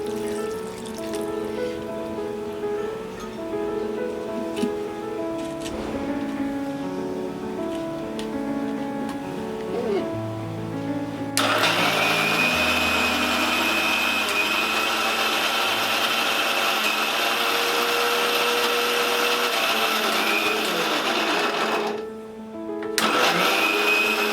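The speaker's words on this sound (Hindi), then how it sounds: "अब हम इसे मिक्सर में ब्लेंड करेंगे।" Over soft background music, a kitchen mixer grinder blending bitter gourd with water starts up and runs loudly with a steady high whir, briefly pausing before whirring on again.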